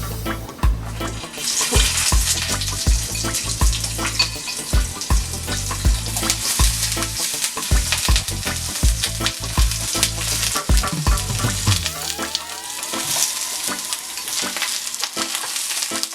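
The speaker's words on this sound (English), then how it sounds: "So now our pan is nice and hot and it's ready for our vegetables." Vegetables laid flat into a very hot pan sizzle and fry loudly and steadily, with stirring clatter and bursts of spattering throughout, easing slightly near the end.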